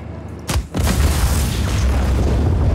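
A bridge blown up in the video game Just Cause 4 sends out a loud, deep boom, followed by a heavy, sustained roaring rumble that fills the rest of the moment, with no voices.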